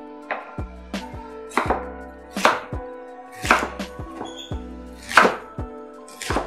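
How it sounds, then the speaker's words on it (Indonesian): A knife chops through cabbage on a cutting board in sharp, crisp strikes, about a dozen in an uneven steady rhythm, close and clear with no talking. "kolnya kita potong juga"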